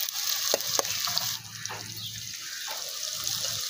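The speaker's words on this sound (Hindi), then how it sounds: "फ्राई हो रही है। हमने ना तो ज़्यादा ब्राउन करना है प्याज को" Chopped onions fry in a pan in a village kitchen with a constant crackling sizzle, broken by a few sharp clinks of stirring.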